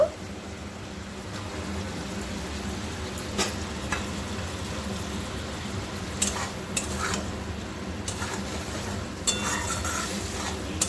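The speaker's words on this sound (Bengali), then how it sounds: "দেখুন ফুটতে শুরু করেছে" Egg curry with cauliflower and green beans cooking in a pan, a steady bubbling, sizzling hiss broken by a few sharp clinks of a utensil against the pot.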